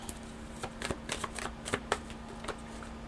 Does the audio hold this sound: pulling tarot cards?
yes